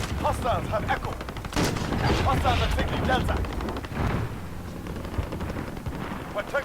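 Sniper shots and gunfire ring out in the video game Ground War, with repeated sharp cracks and bursts over a dense battle din, and a voice speaks through parts of it.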